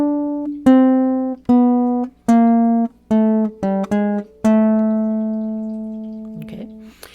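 A baritone ukulele plays a short acoustic blues turnaround line, a run of plucked notes quickening in the middle and ending on a long sustained note, close-miked and solo.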